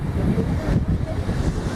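Ocean surf washing on a seashore in the Azores, a continuous broadband rush of waves with wind noise, loud and close, no voices.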